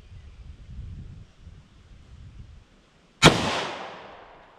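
A single loud handgun shot, 9mm+P or .357 Magnum from a short barrel, fired through a chronograph outdoors, a sharp crack after quiet wind noise with a lingering decaying echo.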